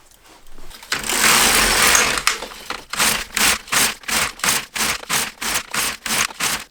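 A knitting machine works a scarf, opening with one long whooshing carriage pass and then settling into a regular run of rapid clacking sweeps, each a short rattling burst, loud and close with no talking.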